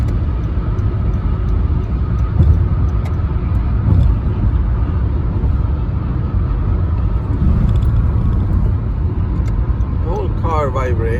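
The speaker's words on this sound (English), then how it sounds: "The whole car vibrates when I try to brake." Steady low road rumble inside a car shaking under braking from warped brake rotors, loud and continuous with slight pulses, while a person talks over it.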